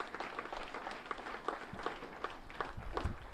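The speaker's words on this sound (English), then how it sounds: "Big round of applause." Crowd applause at a ChampCar Endurance Series national championship awards ceremony for motor racing, a dense steady patter of many hands clapping at moderate distance, continuing throughout.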